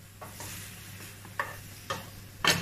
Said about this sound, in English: I'm blanching the calamars.